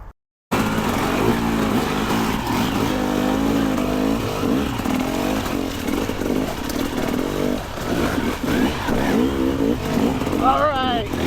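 A dirt bike engine on a trash-strewn trail ride revs and surges loudly up close, its pitch climbing and falling with acceleration amid rattling clatter.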